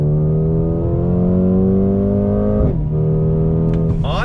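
A 2020 Mercedes-AMG CLA 35 sedan pulls hard on throttle through a right-hand bend, its engine droning loud and close with a steady rising pitch, then a brief dip and shift before climbing again.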